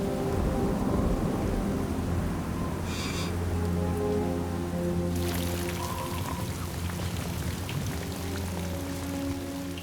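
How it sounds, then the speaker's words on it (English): Heavy rain pours steadily during a storm on a cliff face, a dense, continuous hiss with low rumbling underneath and a sharper burst of noise midway, loud and enveloping throughout with no voices. "But the rain isn't stopping"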